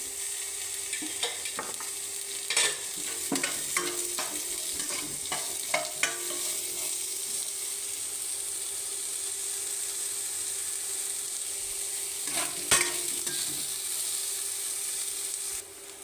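Onions frying in oil in a pan for tomato chutney, giving a continuous close sizzle with occasional scraping stir strokes and clicks of the spatula, and no voices.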